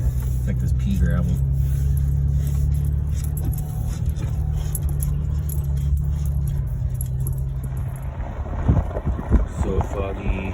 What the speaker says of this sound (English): I gotta put on four-wheel drive just to get this little hill, or I just slide. It's like this pea gravel.